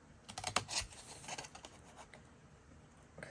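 Scissors snip squares off scored vellum in a quick run of crisp, close cuts and rustles, then fall into quieter handling of the paper before a final snip.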